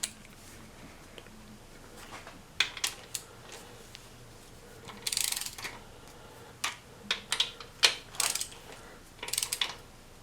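A wrench clicks and ratchets as crankshaft bearing bolts are tightened on a 1994 Saab 9000 engine, irregular metallic clicks sounding close and fairly quiet over a low hum.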